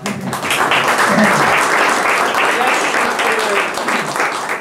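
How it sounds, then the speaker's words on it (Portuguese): Applause at a public lecture, a steady, dense wash of many hands clapping close by for the full length, with some voices mixed in beneath. "acho que merece uma salva de palmas."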